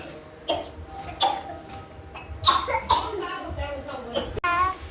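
A child coughs several times in short bursts, close by, with some speech-like vocal sounds in between.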